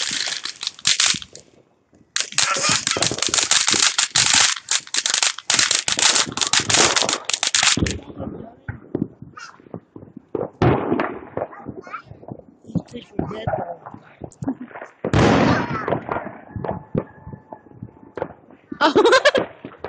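Backyard July 4 fireworks in 2017 going off in loud, rapid crackling and popping bursts, some long sustained volleys and sharp single bangs close by, with people talking and calling out in between.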